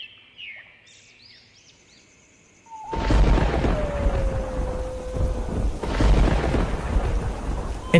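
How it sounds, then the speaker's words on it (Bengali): Cartoon thunder and heavy rain sound effect: after a quiet opening with faint tones, a loud thunderclap breaks into steady, dense rain, with a second rumble of thunder near the six-second mark. "বাইরে এত বৃষ্টি হচ্ছে"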